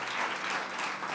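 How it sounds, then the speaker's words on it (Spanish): A church congregation applauds during a sermon, a short, steady wash of many hands clapping at moderate volume with no voices over it. "denle un aplauso al Señor por eso."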